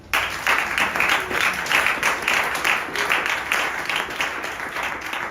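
A church congregation breaks into applause, a dense, steady wash of many hands clapping that rises suddenly and holds, with faint voices mixed in.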